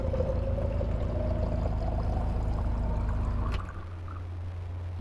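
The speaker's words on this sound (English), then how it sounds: "So turn that on and you can hear the pump." Electric drinking-water pump mounted in the back of a Jeep runs with a steady hum while filtered water pours continuously, then the pump sound drops sharply, leaving quieter flowing water, no talk.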